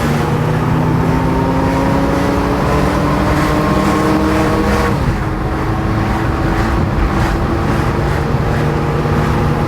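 Loud, steady drone of a carburetted car engine accelerating while driving, its pitch rising smoothly through the gears with road and cabin noise throughout and no talking.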